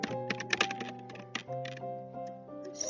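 A computer keyboard clatters with quick, uneven keystrokes as an email address is typed, close and crisp, alone without talk.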